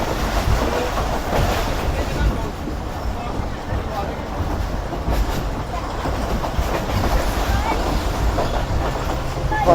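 The Islamabad Express rolling along the rails through the Horse Shoe Curve toward a station, a loud continuous rumble with rhythmic clickety-clack from the wheels and wagon noise throughout.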